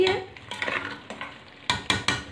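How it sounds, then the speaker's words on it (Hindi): Beef trotters (paye) frying in hot oil, stirred with a metal spoon in a pot; soft sizzle under a run of scraping strokes, then three sharp clanks of utensil on metal near the end, close and fairly quiet. "पायों को हमने भून लिया है"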